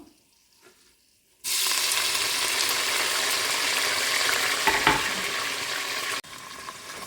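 Mint leaves dropped into hot oil with whole spices for vegetable pulao burst into a loud sudden sizzle after a quiet start, holding steady with a brief stirring scrape, then dropping abruptly near the end.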